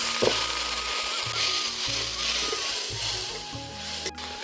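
Chana masala spices with added water frying in a pan, a steady close sizzle with intermittent scraping and stirring knocks from a spoon against the pan.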